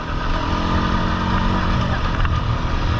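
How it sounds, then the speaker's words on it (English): An old four-wheeler ATV engine runs steadily and loud at close range, a continuous rough motor drone with no pauses, under faint background voices. "So fun throwing stuff with this old four-wheeler."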